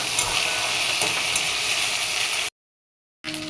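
Onion, ginger, garlic, green chilli paste and tomato sautéing in a pan, a dense, close, steady sizzle that cuts off abruptly into silence before briefly resuming.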